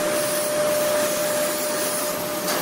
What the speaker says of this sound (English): The round steel pipes are fed into the forming section, where rollers gradually shape them